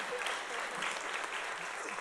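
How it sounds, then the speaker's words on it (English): Applause from the back of a county commissioners court room, a steady dense patter of many hands clapping throughout, moderately distant and fairly quiet, with no voices over it. "And they're applauding in the back."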